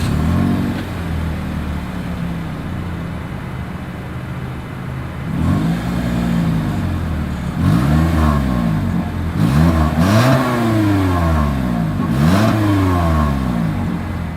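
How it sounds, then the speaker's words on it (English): A 2023 Toyota Corolla's exhaust revs in repeated bursts, pitch climbing and falling with each throttle blip, over steady idle rumble and rain-like background hiss, recorded in the rain. "here is that exhaust clip"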